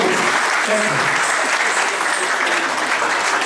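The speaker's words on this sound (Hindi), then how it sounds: "एक बार मिशिका की अच्छे जोरदार तालियां बजाएंगे।" An audience gives steady, dense applause for a little girl dancer at a 65th-year celebration event, continuous and fairly loud throughout with no pauses.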